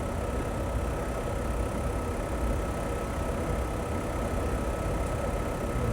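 A Gulfstream IV jet engine runs at 100% RPM, making a loud, steady, unbroken roar that stays constant throughout with no voices.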